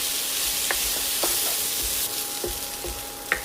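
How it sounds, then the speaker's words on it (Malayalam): Washed rice with turmeric frying in a pan over medium flame: a continuous bright sizzle with several soft scraping stirs of a spoon at irregular intervals, no voices. "ഇതൊന്ന് വറുത്തെടുക്കണം."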